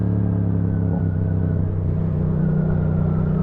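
A Yamaha MT-07 motorcycle is ridden on a wheelie, its engine rumbling loud and steady close by, with a continuous low drone and no speech.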